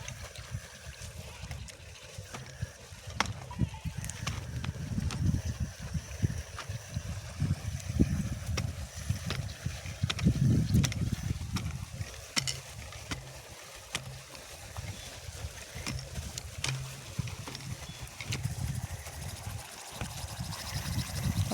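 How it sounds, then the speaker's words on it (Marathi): Rising water surges and churns fast in a flooding stream, a loud continuous rushing roar with low turbulent rumble and occasional sharper splashes, no voices. "वरती पाणी बघा किती फास्ट वर उफळ्या मारतंय"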